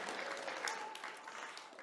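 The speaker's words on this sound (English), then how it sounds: "Let's give her another round of applause for this incredibly generous match." An audience claps steadily throughout, a dense, even patter of applause heard from a moderate distance.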